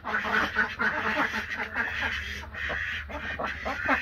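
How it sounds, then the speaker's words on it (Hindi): Several ducks fight and quack nonstop at close range, with overlapping harsh calls and a dense, busy rhythm throughout. "तो ये बतखें जो है वो लड़ाई कर रही हैं।"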